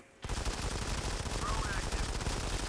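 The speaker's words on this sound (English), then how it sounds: "Turret activated." An automatic turret in Modern Combat 5 fires a rapid, continuous burst of gunfire, loud and close, starting abruptly and sustaining rattling shots to the end, with a voice briefly heard underneath.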